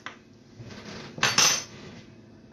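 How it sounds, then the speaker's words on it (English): Cupcake batter mixed with a whisk in a bowl: a soft steady scraping and clinking, swelling into a louder burst of metallic stirring midway, close and alone without talk. "So what I'm going to do is mix it together"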